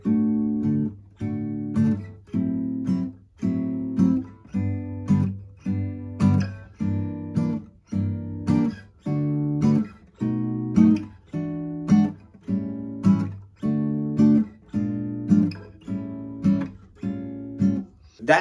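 Strummed guitar plays the verse chords of a song in a slow, steady rhythm, each chord ringing then decaying, heard close and clear with no voice for about eighteen seconds.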